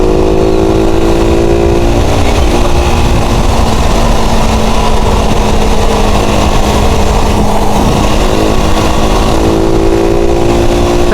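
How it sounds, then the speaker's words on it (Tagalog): Several Harley-style big bikes ride past at a Fantasy World group ride, a steady loud engine drone holding for the whole stretch with a low rumble and faint revving. "Yung motor nila, yun, oh, yung parang mga Harley."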